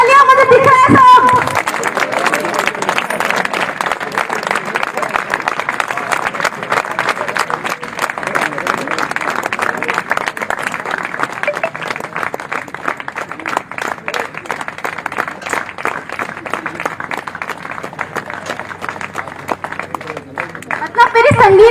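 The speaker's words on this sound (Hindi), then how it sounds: "हल्की हो गई तालियां, मुझे दिख रहा है सब।" Sustained applause from a live audience at a corporate programme fills a long stretch, a dense steady clatter of many hands, with faint crowd chatter mixed in.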